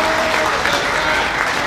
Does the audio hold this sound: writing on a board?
no